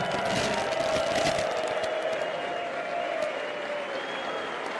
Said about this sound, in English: You guys some round of applause as well.